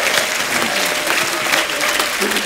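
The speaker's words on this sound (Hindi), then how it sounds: "तालियां रुकनी नहीं चाहिए।" Studio audience on a comedy talk show bursts into sustained, loud applause for arriving film stars, a dense continuous wash of clapping filling the whole stretch with faint voices beneath.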